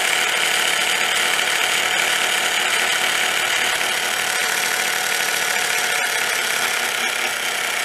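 A self-balancing two-wheeler's gyroscope spins at about 6,500 RPM, giving a loud, constant mechanical whir and hum that stays steady throughout.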